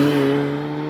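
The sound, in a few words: supercharged car engine revving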